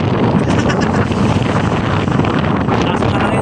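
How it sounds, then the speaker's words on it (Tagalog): Strong monsoon wind buffets the microphone in a constant loud roar, with gusty rushing noise and no speech. "Grabe lakas ang hangin."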